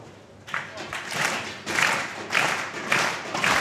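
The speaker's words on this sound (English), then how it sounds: "Chris asking the crowd to clap for Liz" Crowd applause for bowler Liz at a Plaza Bowl bowling alley final: several swells of clapping rise and fall in waves, moderately loud with a roomy, hollow echo.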